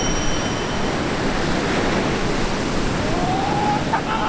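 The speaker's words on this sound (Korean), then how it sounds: "파도 너무 심합니다" Strong sea waves surge in a heavy, continuous roar of rough surf, loud and close, with a faint voice briefly audible near the end.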